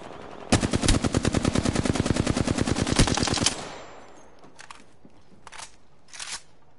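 Knuckle Cluster ability firing in the Apex Legends game: a loud, rapid burst of dense popping shots for about three seconds, then a decaying tail with a few short, sharp bursts further off.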